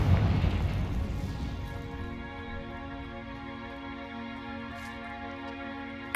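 A fiery Confringo spell blast from the Hogwarts Legacy video game erupts in a loud, dense burst at the start, then decays into a sustained humming, crackling rumble with steady tonal layers, no voices over it.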